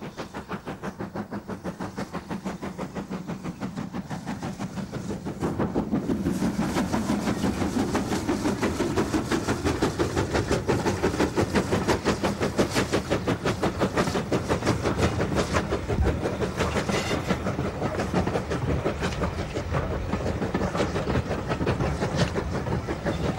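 Great Western-liveried steam locomotive 5619 hauls green Southern Region-style coaches on the Isle of Purbeck's railway, giving a steady rhythmic clatter and beat that swells louder after a few seconds and holds close and continuous.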